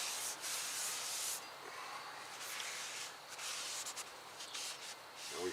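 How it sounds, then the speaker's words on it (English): A rag rubs oil off rear brake parts of a 2017 Subaru WRX, producing a steady, close, broadband rubbing hiss that runs almost continuously with slight swells and a few brief breaks. "Rub that oil off of there."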